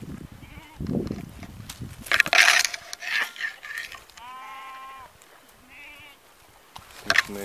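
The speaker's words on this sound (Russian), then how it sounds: "Коровы, овцы," Sheep and cattle gathered at a pond in Poteryaevka village, with several loud, wavering bleats close by amid rustling, and a voice speaking briefly in the background.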